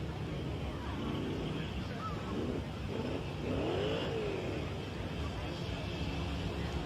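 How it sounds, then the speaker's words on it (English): A monster truck engine revs at an outdoor show, a broad steady roar with a rising and falling pitch sweep in the middle, heard through crowd and announcer noise. "You ready to see some more monster truck racing?"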